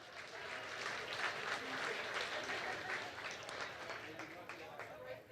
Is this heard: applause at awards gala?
yes